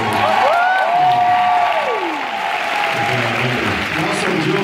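A large audience at a Megafest event claps and cheers in sustained, dense applause, loud and continuous, while a voice speaks over the crowd.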